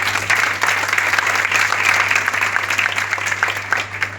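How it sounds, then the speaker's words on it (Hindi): Loud, sustained applause from an audience at a bridal makeup event in India, dense steady clapping close by that fills the whole stretch with a faint background hum beneath. "एक बार जोरदार तालियां हो जाएं।"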